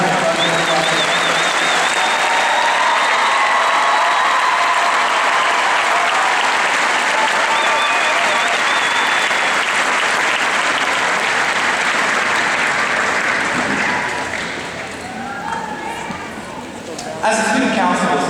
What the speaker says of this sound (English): Please join me in a round of applause as we celebrate the achievements of the 278 students of the Town High School graduation class.